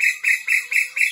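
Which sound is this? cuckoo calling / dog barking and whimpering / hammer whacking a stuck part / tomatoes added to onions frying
cuckoo calling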